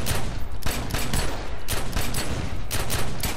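Rapid gunfire rattles in close bursts in the video game The Secret World as shots are aimed at a barrel, with loud, dense volleys and short gaps between clusters.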